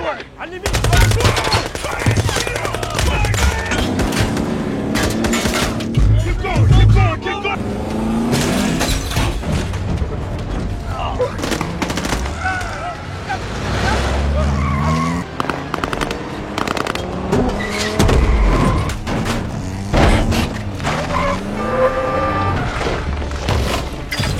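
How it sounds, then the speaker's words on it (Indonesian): A dense war-film car chase between American troops and rebels, with roaring engines, tire noise and bursts of automatic gunfire packed tightly together under a continuous narrating voice. "terjadilah adegan kejar-kejaran antara pasukan Amerika dengan pasukan pemberontak"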